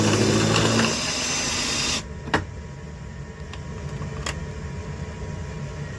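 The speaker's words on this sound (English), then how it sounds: "now we're going to trim them down to the correct length." A case trimmer cutting brass rifle cases to length, a steady motorised whir for about two seconds that stops abruptly, followed by quieter handling with a few sharp metallic clicks nearby.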